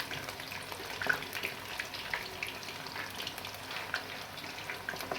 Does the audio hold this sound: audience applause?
no